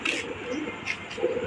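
Pigeons on a home rooftop, a newly settled male guarding his spot, give soft repeated coos in a short burst, moderately near and fairly quiet, with no voices over them.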